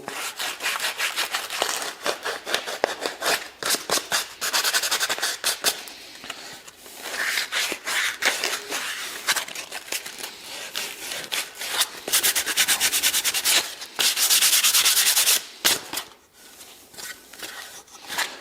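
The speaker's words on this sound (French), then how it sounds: "Un petit coup de papier de verre pour nettoyer les bords" Sandpaper rubs the edges of a wooden birdhouse in quick, uneven back-and-forth scratchy strokes. The close gritty rasping continues for a long stretch with short pauses and a few louder bursts. No one talks.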